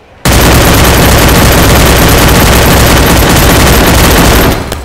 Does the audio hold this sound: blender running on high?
no